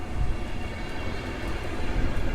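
A long passenger train rolls through Warszawa Wschodnia station, a loud, steady rumble of wheels and cars close by, continuous throughout with no voices.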